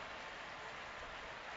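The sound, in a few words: stadium crowd applauding injured football player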